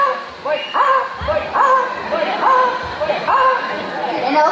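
Several children imitate a dog with their voices, giving a series of yappy bow-wow barks and whimpery yips in quick bursts, close and fairly loud, with chatter between the calls.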